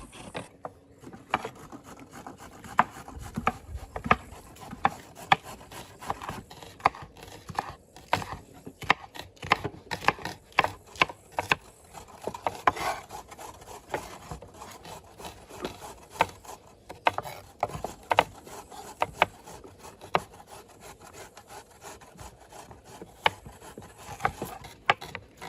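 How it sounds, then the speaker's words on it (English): A knife slices vegetables on a wooden board for a Latvian salad relish, giving rapid, irregular sharp taps and cuts near and close with no talk. "it's all the slicing work"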